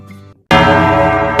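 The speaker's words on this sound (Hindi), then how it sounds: "ओह, रानी ने दुख की घंटी बजा दी" A large bell rings out loudly after a brief quiet moment, its resonant tone sustaining and humming, then struck again near the end.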